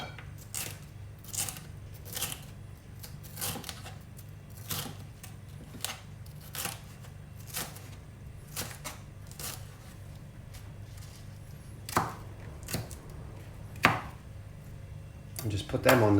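A knife cuts food on a chopping board in a home kitchen while salad is prepared, giving a series of sharp, close taps spread irregularly over a steady low background hum.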